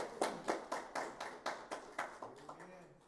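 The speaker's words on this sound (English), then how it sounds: "Let's give God a hand clap of praise." Congregation at a Sunday church service claps hands in praise, about a dozen evenly spaced claps in a steady rhythm that loosen and fade toward the end, moderately faint in the room.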